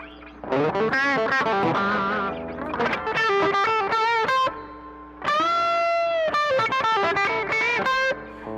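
A Les Paul electric guitar runs through heavy distortion and other effects, ringing out sustained chords and notes in loud phrases broken by short pauses, with no one talking.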